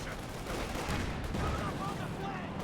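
Machine gun fire from a Company of Heroes 2 battle, a continuous dense crackle of shots and explosions with a voice talking over it throughout.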